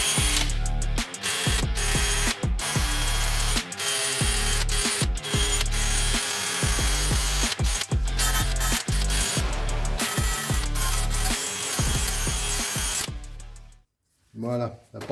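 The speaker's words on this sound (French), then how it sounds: "Alors moi j'utilise une petite brosse métallique comme ça." A small wire brush scrubs rust from the hub seat of a Suzuki Swift Sport during a brake disc and pad change. The brushing is harsh, dense, rapid and close, with brief breaks, and fades near the end.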